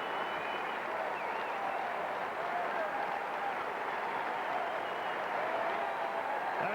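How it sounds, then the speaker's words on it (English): A tennis crowd at the 1999 Washington final gives Andre Agassi a standing ovation, steady sustained applause and clapping heard from a distance, faint and even throughout. "A big hand from this crowd. Standing ovation for the number 2 seed"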